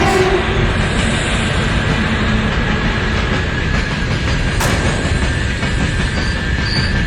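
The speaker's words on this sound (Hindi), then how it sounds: "पटरी पर तेज रफ्तार से एक ट्रेन आती हुई दिखाई देती है और थोड़ी ही देर में स्टेशन के पास आकर रुक जाती है।" A train roars along the rails at speed with a steady heavy rumble, wheel clatter and faint squeals, holding loud and continuous throughout as it comes in to a station.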